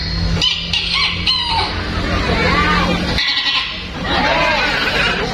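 A human voice imitates goat bleats, several wavering calls in a row, close and loud, mixed with spoken bits.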